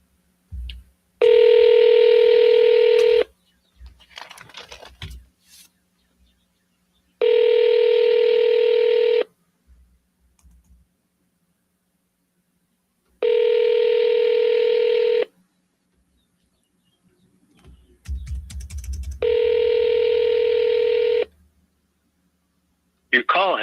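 Telephone keypad dialing tones placing a call: long, loud, evenly spaced DTMF beeps sounding alone, four tones separated by pauses, with brief faint rustles and a low thump between them.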